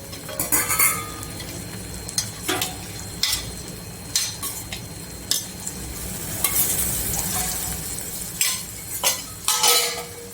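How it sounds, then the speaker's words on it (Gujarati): A spoon stirs yogurt into a sizzling Jain Kathiawadi-style kaju masala curry in a pan. Scraping strokes and metallic clinks come in an irregular rhythm over a steady frying hiss, close and alone. "ને આપણે ફટાફટ એકદમ મિક્સ કરી લઈશું, હલાવીશું, નહીં તો ફાટવાની બીક લાગે."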